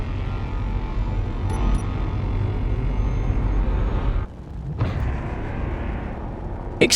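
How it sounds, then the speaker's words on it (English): Loud, sustained rumbling roar of explosions in the space combat game Space Engineers, with a sharp cutoff, a brief quiet gap, then the roar resumes, ending in a few bright crackles. "Explosions!"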